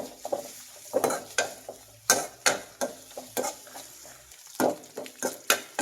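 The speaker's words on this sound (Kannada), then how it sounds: "ಈರುಳ್ಳಿ ಒಂದು ಸ್ವಲ್ಪ ಸಾಫ್ಟ್ ಆಗಬೇಕು, ಅಲ್ಲಿವರೆಗೆ ಫ್ರೈ ಮಾಡಿ." Onions fry in oil in a pan while being stirred, with rhythmic scraping strokes of a spoon over a soft sizzle, close and repeated at an uneven pace, with no talking.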